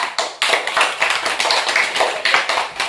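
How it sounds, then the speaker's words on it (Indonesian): A class of students clapping together in a classroom, loud and close, a steady rapid patter of hands for about three seconds. "Tepuk tangan untuk kelompok 1, kelompok 3."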